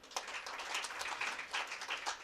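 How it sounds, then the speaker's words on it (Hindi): Audience at a Women's Day celebration clapping, a brisk burst of many hands applauding together, fairly close and steady for the whole moment. "तो एक ताली आप खुद के लिए भी बजाइए"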